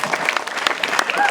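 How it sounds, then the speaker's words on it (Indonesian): Audience applause at a Balinese bondres comedy performance, scattered clapping from the crowd mixed with chatter and voices throughout the short stretch. "Ayo ada tepuk tangan lagi"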